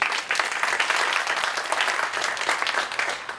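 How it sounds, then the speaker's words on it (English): Warm, sustained applause from a conference audience at a technical semiconductor talk, a dense patter of many clapping hands at fairly strong volume throughout, without speech. "Let's give applause to Ian Wright."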